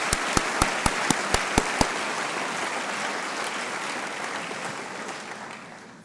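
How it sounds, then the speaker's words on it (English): Audience applause for scholarship recipients at a 2018 scholarship reception, opening with a few sharp individual claps before swelling into steady, dense clapping from a sizable crowd that slowly fades toward the end. "Let's give them a big round of applause."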